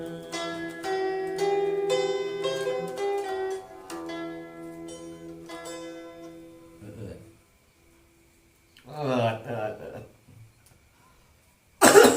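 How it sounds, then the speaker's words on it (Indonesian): Sundanese religious kawih singing with kacapi fades out, then after a pause a short burst of coughing follows, with another sharp cough or noise at the very end. "Batuk."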